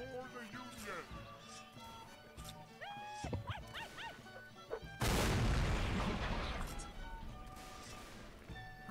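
A Mount & Blade: North & South cannon fires with a sudden heavy boom about halfway through, followed by a long rumbling decay, after a stretch of game noise and yelping sounds.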